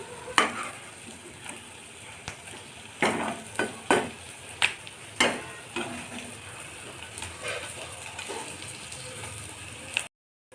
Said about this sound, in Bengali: আমি এবার বড়াগুলোকে উল্টে দিচ্ছি।